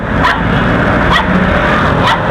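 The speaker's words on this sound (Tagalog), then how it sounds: "Ang dami niyo pong alagang aso tsaka pusa." Dogs bark in three short sharp yaps spaced about a second apart, cutting through loud, dense street noise with traffic rumbling underneath.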